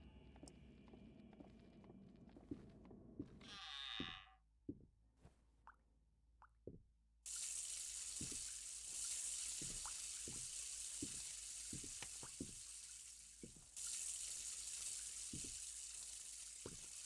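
A water tap running in the Ghost Watchers game, a steady broad hiss that switches on partway through and continues, with scattered soft knocks and footsteps underneath.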